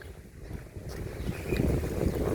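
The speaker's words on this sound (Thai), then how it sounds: "ลมแรงมาก" Strong wind roars across the microphone outdoors during a storm, a loud, continuous low rumble with buffeting gusts that swell toward the end.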